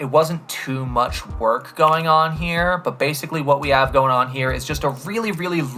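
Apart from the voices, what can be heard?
None of the usual background noises is heard.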